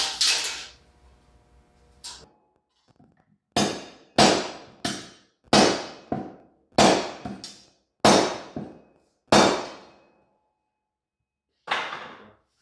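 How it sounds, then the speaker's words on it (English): Steel flat bar is cold-formed into a long arch for a 1940 Ford Coupe wireframe buck, with loud metallic hammer blows struck close by in a steady series, each one ringing briefly before the next. "It's quite a bit of hammering."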